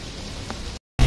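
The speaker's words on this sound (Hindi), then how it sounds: "ये देखिए कितनी तेज़ बारिश जो है वो शुरू हो गई है" Steady broadband hiss of rain pouring down, then a brief dropout before a louder, closer burst of rain noise.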